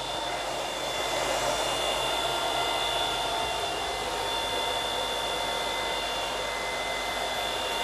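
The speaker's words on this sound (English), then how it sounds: "sorry about the fan noise," Cooling fan of an M10 Sniper Pro coffee roaster running, a steady loud broadband whoosh with a faint high whine, constant and close throughout with no talking.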